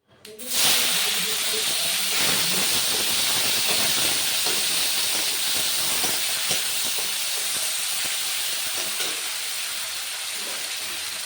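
Tomato dropped into hot oil with black cumin bursts into a loud, sustained hissing sizzle that settles into steady crackling frying over several seconds, close up with no talking.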